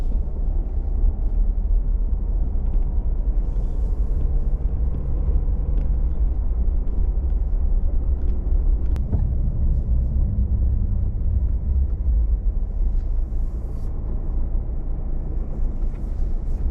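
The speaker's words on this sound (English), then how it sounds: "Just drove up to where we're going to camp" A car rolls slowly around a crowded bush campsite at Kilkivan, its low engine rumble and tyre noise steady and close throughout, with no talking.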